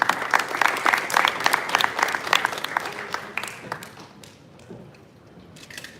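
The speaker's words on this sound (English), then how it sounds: "Round of applause, please, for Joseph Markowski from DAZN." Dense audience applause fills a boxing press conference at Madison Square Garden, many hands clapping loudly at first, then thinning out to a few scattered claps.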